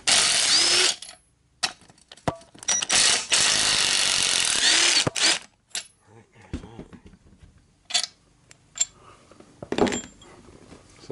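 A Craftsman ratchet or wrench works on a Dodge Neon SRT4 differential, giving bursts of ratcheting and mechanical clicks, some long and loud, others short and sparse, with scattered metal knocks.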